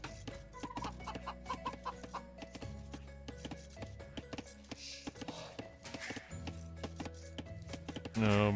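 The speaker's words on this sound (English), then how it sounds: "Chickens are running right underneath the TC." Chickens cluck faintly among the busy game sounds of Age of Empires, layered over looping music tones and clicks, with one louder burst at the very end.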